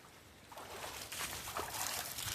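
Water pours and splashes through a screen into a bucket while sifting dirt for gold, a continuous close trickling and sloshing that grows slightly louder and choppier as it goes on, with no speech.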